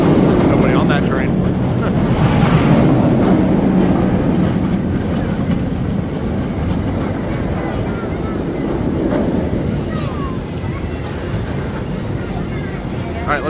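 A low rumbling inverted roller coaster train clatters along its track on a quiet lift hill outdoors at SeaWorld San Antonio, with wind buffeting the microphone and faint voices in the background.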